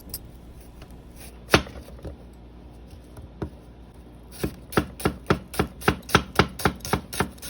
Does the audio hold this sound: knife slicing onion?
yes